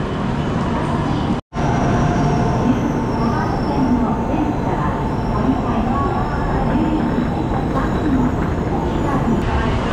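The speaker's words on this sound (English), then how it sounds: "Okay, so this is indeed the train." A Japanese Shinkansen Hikari high-speed train makes a steady, even rumble and rushing noise for the whole stretch, with a voice talking over it.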